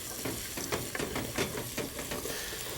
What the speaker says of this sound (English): so we're just going to fry them for 1 minute